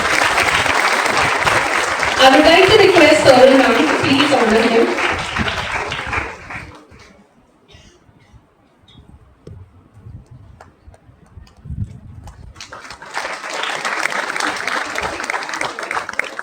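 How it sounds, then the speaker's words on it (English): Audience at a school felicitation ceremony for grade achievers bursts into loud applause that fades out midway, a spoken announcement follows, then clapping swells again near the end. "So he deserves a great round of applause."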